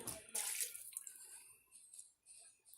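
Water splashes and runs while a container is rinsed out in a kitchen during slow cooker vegetable beef preparation, a brief close gush followed by quieter trickling and dripping.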